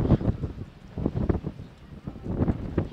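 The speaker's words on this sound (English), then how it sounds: "the wind is gusting, in case you can't tell from all the wind noise in the mics here" Gusting wind buffets the microphones at an outdoor high school baseball game, rumbling in uneven loud bursts.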